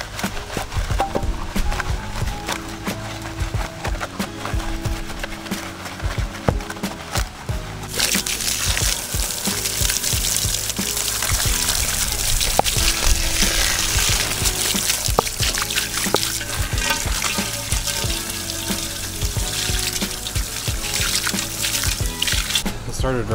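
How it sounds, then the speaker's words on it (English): Heavy rain pouring down outdoors during work on stock STI wheels, a dense broadband hiss that swells suddenly partway through and stays loud and steady, with voices and scattered knocks underneath. "Bro, it's starting to pour."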